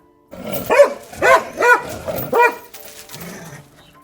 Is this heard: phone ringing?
no